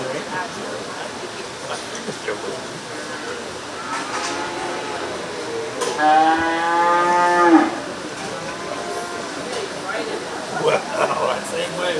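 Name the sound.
feeder calf heifers mooing at a 4H cattle show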